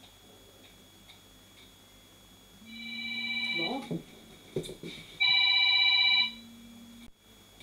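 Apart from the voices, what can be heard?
telephone ringing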